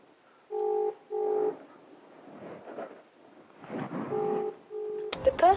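Paired dialing tones sound in two steady bursts, then return after a noisy stretch with rustling, ending in a brief chirpy electronic burst, as a video call is placed on a phone.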